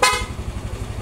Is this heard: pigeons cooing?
no